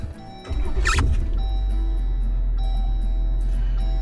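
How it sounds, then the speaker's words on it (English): A car engine cranks with a brief high squeal, then catches and settles into a steady, loud low idle hum for several seconds. "So first things first, start the vehicle."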